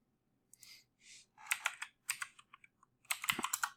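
Keyboard keys tapped and clicked while working in Blender 3D software, close and crisp, in short irregular bursts of several presses with brief pauses between, no voice.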